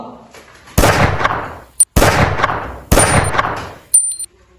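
Three loud, close gunshot bursts from a short student film dramatizing the G30S/PKI events, each a sharp crack trailing into a roaring decay, with a shorter metallic crack between them.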